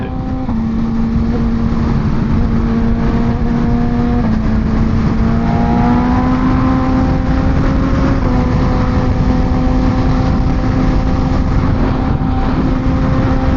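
Steady, loud engine drone from a BMW S1000RR (S1K) motorcycle on a ride, with gear shifts marked by step changes in pitch and constant wind noise.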